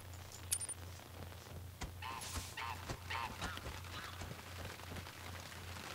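Geese honking in the hunting game theHunter: Call of the Wild, a few distant nasal calls spread across a quiet outdoor ambience with a low steady hum underneath, no voices.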